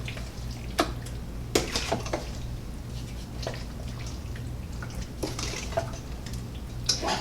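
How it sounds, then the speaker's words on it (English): Pulled pork being stirred into BBQ sauce in a pot, wet sloshing and intermittent sharp clinks of a utensil against the pot over a low steady background hum. "And then you just want to coat your meat in your sauce. So give it a really good stir."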